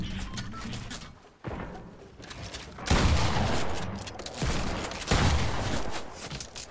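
Gunfire in Fortnite Battle Royale, Season 7 solos, during a fight near a tall building: several loud, close bursts of shots break up a steady noisy background.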